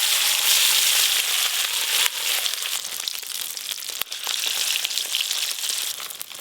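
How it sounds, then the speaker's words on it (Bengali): Fish roe pieces, mixed with chopped green chilli, frying in hot oil as small fritter-like omelettes, giving a loud, steady, dense sizzle and crackle that runs continuously throughout with no talking. "এবার ভেজে নেব।"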